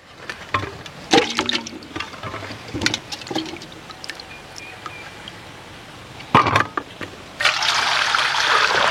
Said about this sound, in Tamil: ஃபஸ்ட்டு உருளைக்கிழங்க நம்ம வாஷ் பண்ணி எடுத்துக்கலாம்.